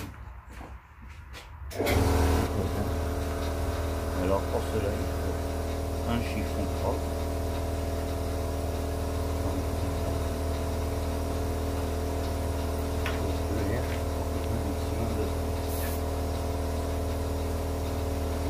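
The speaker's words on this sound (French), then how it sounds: "j'ai arrêté le compresseur, j'ai assez d'air" A steady mechanical drone of an air compressor runs throughout at close range, with a person speaking over it.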